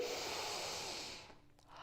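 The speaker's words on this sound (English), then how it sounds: "Take a deep breath in all together now." A group of people draws in a long, deep breath together, a steady airy rush that fills most of the moment before tapering off into quiet, with no talking during it.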